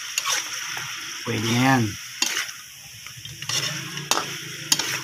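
Hot oil frying for adobong palagatik, a close crackling sizzle with stirring clatter, broken by a short spoken phrase and a few sharp utensil knocks.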